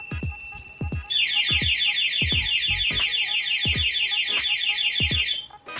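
A loud Yamaha Mio i 125 motorcycle anti-theft alarm wails in rapid warbling pulses, repeating steadily and close by, with faint mechanical clicks underneath.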